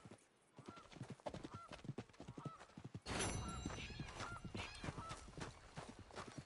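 Horse hooves clip-clop in an uneven walking rhythm in Red Dead Redemption 2, with snorts and a whinny-like sound over a low ambient game background, moderately close.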